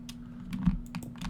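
Rapid clicking of a computer keyboard being typed on close to the microphone, a run of light key taps over a steady low hum, with no talking.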